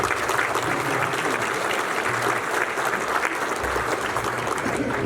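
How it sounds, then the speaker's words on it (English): A banquet audience at a trucking driver hall of fame luncheon in Orlando applauds, dense continuous clapping from a large crowd, loud and steady for the whole stretch with no talk over it. "Let's give them a great round of applause."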